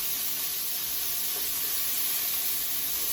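Asparagus spears cooking on a grill, giving a steady, even hiss of sizzling that holds at constant loudness throughout, with no talking.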